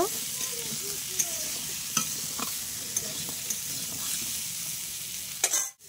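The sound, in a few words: frying vegetables with turmeric and chili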